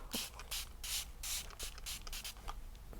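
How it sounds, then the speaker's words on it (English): Several short hissing sprays from a pump bottle onto fabric before ironing, in quick bursts, close by, with brief pauses between them and no talking. "I'm going to spray this,"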